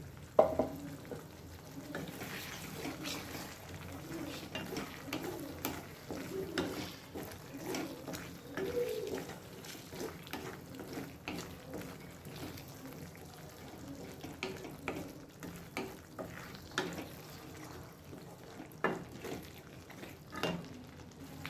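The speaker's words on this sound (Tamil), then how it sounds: "நம்ம வந்து ஃப்ரை பண்ணி வச்சுருக்க முட்டையை இதில் சேர்த்துக்கலாம்" Fried eggs stirred into a simmering masala gravy for egg curry, a quiet sizzle under repeated spoon scrapes and stirring clatter in a pan, close and fairly soft throughout.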